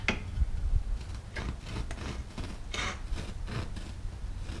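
A hole saw grinds through car bench-seat foam, giving a steady raspy scraping and rubbing texture with a few brighter bursts, fairly quiet and continuous with no talk.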